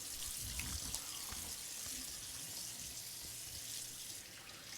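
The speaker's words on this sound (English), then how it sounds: "so now I'm going to rinse" Tap water runs steadily into a sink while a shaving brush is rinsed, a continuous close splashing hiss with no pauses.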